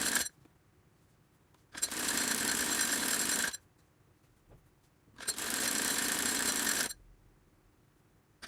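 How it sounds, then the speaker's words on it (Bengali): A sewing machine stitching a fabric Quran cover at home, running in two steady buzzing bursts of about two seconds each, separated by quiet pauses. "দুইটা পাশ আমার সেলাই দেওয়া হয়ে গেছে।"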